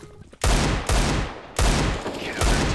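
Gunshots in a first-person shooter game crack loudly and close, four heavy reports spaced at roughly even intervals, each with a short booming tail.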